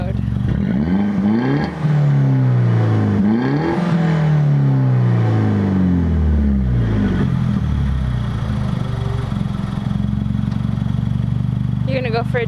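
A 2009 Mini Cooper S (R56) with a Flowmaster Super 10 muffler and Invidia Q300 piping revs in sport mode, with several sharp throttle blips rising and falling near the exhaust, then settling into a steady idle rumble.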